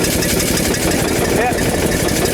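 An engine runs steadily as it is worked through the throttle, giving a dense, rough mechanical roar with faint voices underneath.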